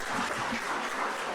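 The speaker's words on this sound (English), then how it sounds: "give a big round of applause to our moderator" A conference audience gives its moderator a round of applause: a dense, even wash of many hands clapping at once, moderately distant and fairly quiet, with no talking.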